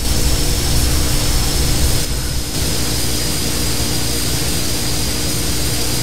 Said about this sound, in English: Beautiful plane.